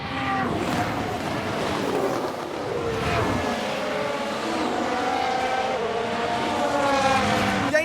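Ferrari Formula 1 car engine from the 1991 season in F1 Manager 22, a steady high-pitched racing whine that rises and shifts in pitch throughout, loud and continuous, with no talking.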